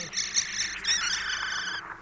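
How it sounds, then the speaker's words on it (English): A thrush sings a bright, repeated whistling call, fairly close and clear over a quiet mountain backdrop, in a dramatized fantasy story. "Hey, there's that old thrush again."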